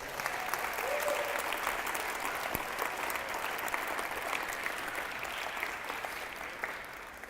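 A church congregation claps steadily in sustained applause that fills the room, dense and even, tapering only slightly toward the end.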